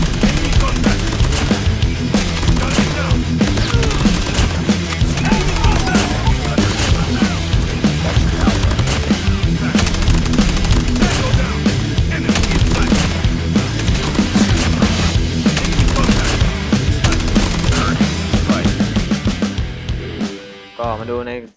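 Sustained automatic fire from the AK117 rifle in Call of Duty Mobile: loud, rapid, continuous shots over game sounds, stopping abruptly near the end.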